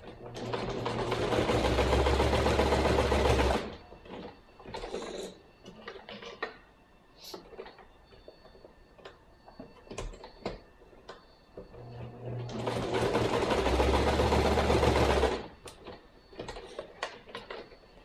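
Sewing machine stitching the fabric body of a plush hooved animal toy, running in two sustained whirring bursts near the start and end with quieter handling and clicks between, no talking.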